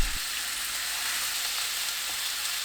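Pork belly rolls wrapped around bean sprouts and perilla leaves fry in a spoonful of cooking oil, giving an even, steady hiss that stays close and moderately quiet, with a soft knock at the start.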